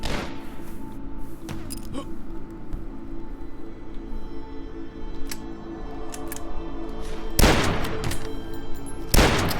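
Gunfire in the retro shooter Dusk: sharp, loud shots, a few at the start and two heavy blasts near the end, over a steady low hum of ambient game noise.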